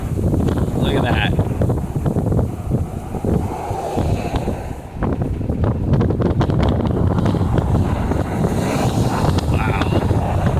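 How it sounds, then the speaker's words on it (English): Strong wind howls and buffets across Big Bear Lake near the dam, a steady roar of gusts battering the microphone for the whole stretch, with rumbling low-end buffeting and no break in the blowing. "this is a good spot to show you just how windy it is up here"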